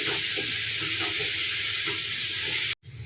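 Finely chopped garlic and ginger sautéing in a pan for tapioca cutlets: a steady, dense sizzle with faint stirring underneath, cutting off abruptly near the end.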